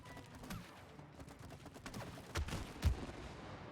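Gunfire in the video game It Takes Two: a series of quick shots with two louder bursts near the end, fairly faint and sharp, over a low game background with no speech.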